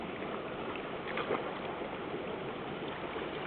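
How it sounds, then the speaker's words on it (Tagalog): Water running steadily from a tap, a continuous broad rushing splash held at an even level throughout, close by with no talk over it. "Ay, hinaan mo yung gripo. Yung gripo, hinaan mo."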